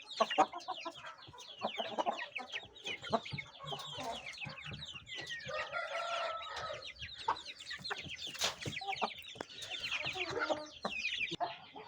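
A hen that is about to lay eggs pecks at small stones and pebbles, clucking close by in a steady stream of short, repeated clucks that runs throughout.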